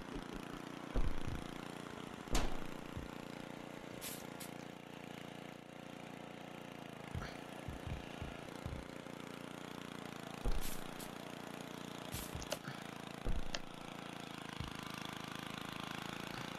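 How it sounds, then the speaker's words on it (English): A lawnmower engine in a video game drones steadily at a low, fairly quiet level, broken by several sharp thumps and bangs scattered throughout. "Hello, I'm on a lawnmower."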